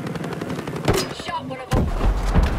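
Gunshots in the Ghost Recon video game: a couple of sharp nearby shots, then heavier, denser firing with a deep thump, with faint voices mixed in underneath.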